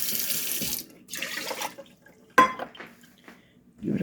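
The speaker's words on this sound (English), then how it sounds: "And my usual 2 cups of water." Water pours from a tap into a rice cooker pot holding a cup of rice, in two bursts of splashing flow, followed by a sharp clink and a few faint drips.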